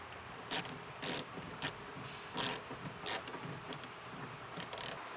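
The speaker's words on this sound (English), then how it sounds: "grab your 7/16 socket and wrench, and bolt it into place on that hole right there" Ratchet socket wrench turning a 7/16 bolt while mounting a Pace Edwards Switchblade hard tonneau cover on a pickup, heard as several short bursts of rapid ratcheting clicks separated by pauses, moderately close.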